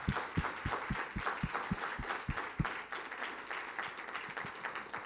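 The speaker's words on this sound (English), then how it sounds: "Let's give them a round of applause" Audience applause for the teams presenting at a university new venture challenge finals, a moderate steady patter of many hands with a few sharper claps standing out, filling the whole stretch at middling distance.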